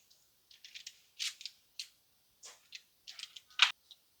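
Homemade granola bars are sliced into pieces, giving a series of short, close, crisp cutting crunches in irregular bursts with brief silences between them.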